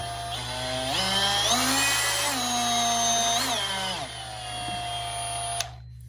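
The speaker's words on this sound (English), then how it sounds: "This is the Metabo HPT cordless multi-tool." A Metabo HPT cordless oscillating multi-tool runs up close, a high whining motor that steps up and down in speed for about five seconds before cutting off abruptly.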